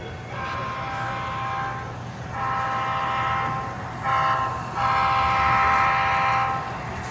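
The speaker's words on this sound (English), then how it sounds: "Over here, you got a Lego train layout." Lego model train running on a layout at a railroad society train show, with a sustained mechanical rumble and bright repeating horn-like tones that swell and fade in several passes, nearby and moderately loud.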